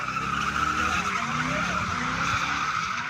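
Car tires screech continuously at a night street sideshow in San Jose, a loud sustained squeal with engine roar underneath throughout, no voices.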